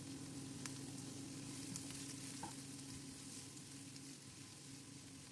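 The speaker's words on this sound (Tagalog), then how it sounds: "Isunod na igisa ang sibuyas hanggang lumambot." Onion sizzles as it sautés in a pan with garlic, a soft, even frying hiss under a faint low hum, with a few light stirring clicks and no voices.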